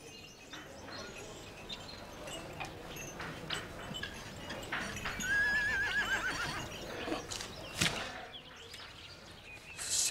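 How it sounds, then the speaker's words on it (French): Horse-drawn cart outdoors, with a horse's high wavering neigh in the middle over steady clip-clop of hooves and cart rattle, plus faint bird chirps and a sharp knock near the end. "C'est ta charrette."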